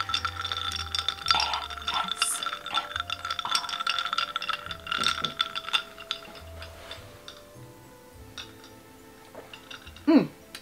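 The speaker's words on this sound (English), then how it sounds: "I love the sound of ice when you're stirring coffee." Ice cubes clink against a glass as iced coffee is stirred, giving light scattered rattles and taps in a quiet indoor setting.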